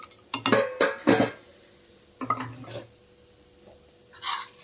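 Fried peanuts, cumin seeds and green chillies tipped into a steel mixer jar, giving a few short clattering, scraping bursts of metal and spoon contact in a quiet kitchen, with a faint clink near the end.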